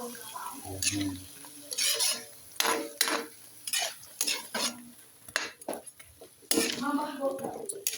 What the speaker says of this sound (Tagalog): Saka natin ilagay ang laman ng mackerel.